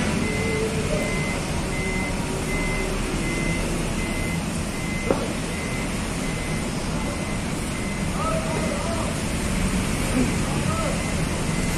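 An AC morning bus, a 91 OC coach of the Sumber Alam line, pulls into a terminal while a reversing alarm beeps in a steady repeating pattern over engine rumble, station bustle and nearby talk.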